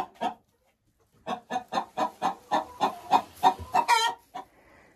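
Hens clucking in a winter henhouse, a quick run of a dozen or so close, rhythmic clucks after one early cluck and a pause, rising toward a louder squawk, with no talk.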